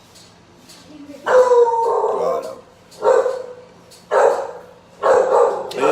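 A dog gives four loud, drawn-out barks with a howling edge, evenly spaced about a second apart and close by. A voice speaks briefly near the start.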